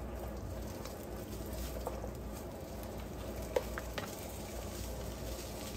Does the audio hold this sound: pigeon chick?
no